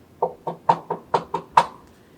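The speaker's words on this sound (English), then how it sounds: "there was a knock on the door" A run of seven sharp knocks on a door, evenly spaced and fairly close, with nothing else around them.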